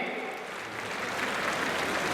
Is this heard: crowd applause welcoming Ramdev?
yes